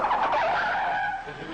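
A car skids to a stop with a loud, close tire squeal that rises, holds, then fades over about a second and a half, heard without speech.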